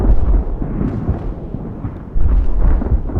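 Naval cannon fire in the age-of-sail battle game Ultimate Admiral: Age of Sail, a continuous heavy low rumble of booming broadsides, loud and dense with no voices.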